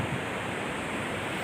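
Beach on Simeulue, Aceh, with a steady broadband roar of surf and wind washing over the microphone, continuous and fairly loud with no distinct breaks or voices.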